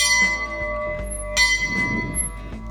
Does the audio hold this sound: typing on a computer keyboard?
no